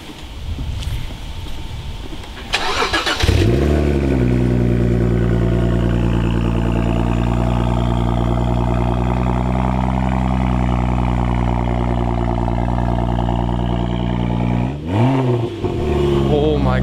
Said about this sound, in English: Give it that cold start.